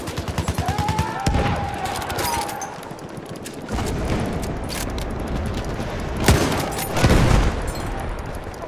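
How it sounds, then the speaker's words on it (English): Machine gun fire and rapid gunshots rattle through a Battlefield 1 battle, continuous and fairly loud with a few sharper, heavier bangs near the end. "Machine gun over there!"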